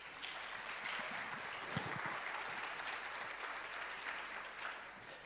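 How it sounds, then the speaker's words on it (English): Audience applause fills a conference main-stage hall, a steady, fairly quiet wash of many hands clapping that holds evenly throughout without a break. "Clark, big applause."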